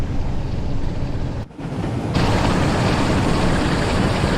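Intercity Class 47 diesel locomotive in Train Sim World 4 working at full power, a loud steady broadband engine roar with a brief dip before building to a heavier, constant drone.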